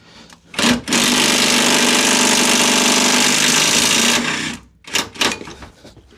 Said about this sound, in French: Donc à la clé à choc.